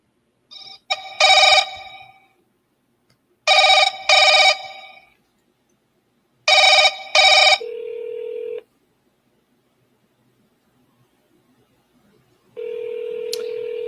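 Phone call ringing before going to voicemail: three pairs of electronic ring bursts separated by pauses, each followed by a steady tone, then a long tone at the end, loud and clear with no talk.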